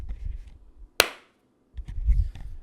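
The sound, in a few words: sync clap for syncing audio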